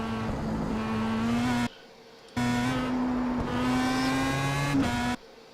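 Engine of a Pro Mazda race car at Nürburgring in iRacing, a close buzzing drone that holds pitch under modulated throttle, cutting out twice for brief lifts before resuming.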